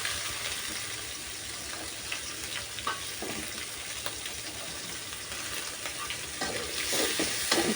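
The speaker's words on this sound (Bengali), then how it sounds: "চিংড়ি মাছগুলো দিয়ে একটু নেড়ে দেব। তারপর পেঁয়াজ কুচি, কাঁচামরিচ এগুলো দিয়ে একটু নেড়ে চেড়ে নেব।" Prawns with chopped onion and green chili sizzle and crackle in a hot pan as they are stirred, a steady close frying hiss with occasional scraping stirs and no talk.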